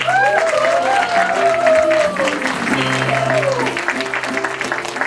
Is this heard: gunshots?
no